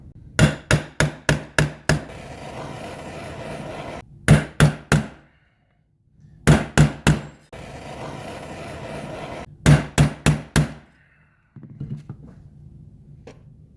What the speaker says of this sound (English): Now we're gonna bust out the heavier hammer and keep going.